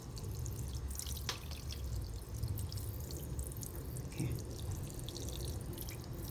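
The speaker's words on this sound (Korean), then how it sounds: "물을 수돗물을 그냥 샤워식 수도꼭지로 그냥 이렇게 줍니다" Tap water sprays from a shower-style faucet head over potted succulents in gritty soil, making a steady, close hiss of falling water with scattered drips throughout.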